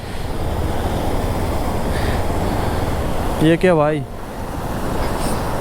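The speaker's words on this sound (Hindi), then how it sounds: "पुल के ऊपर पानी आ गया" Flood water from heavy rain in Himachal rushes over a bridge in a loud, steady roar, with someone briefly speaking over it partway through.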